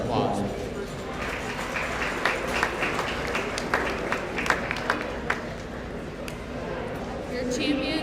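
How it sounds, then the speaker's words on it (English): Applause from the audience at a meat goat show in the Schulte Complex, a steady patter of clapping lasting the whole stretch, moderately loud, with some voices in the crowd. "We'll just give them all a round of applause."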